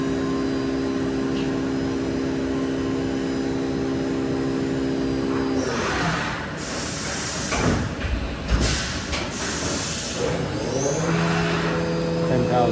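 A 2021 Haas VF4SS CNC vertical machining center with coolant-through-spindle and chip auger runs with a steady tonal spindle whine, then switches to rough broadband cutting and coolant spray noise with bursts before the whine resumes.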